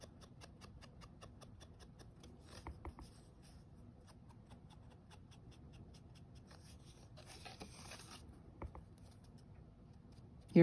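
An ink dauber dabs and rubs over a die-cut paper floral butterfly, giving soft, close, rapid tapping and scuffing strokes that repeat steadily at low volume in an otherwise quiet room.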